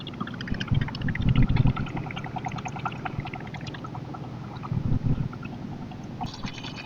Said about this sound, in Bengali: এই যে এই ট্রলারটি ছেড়ে দিল নন্দীবাজার থেকে